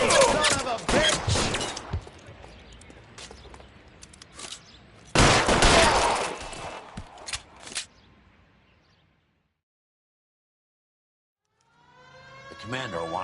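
Gunfire from the L.A. Noire video game, with bursts of shots in the first half, a second loud volley around the middle, then silence before a siren-like wail rises at the end.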